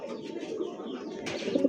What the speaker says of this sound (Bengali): এক জোড়া কিং কবুতর, একদম বিগ সাইজের মুন্ডিয়ানের মতো দেখেন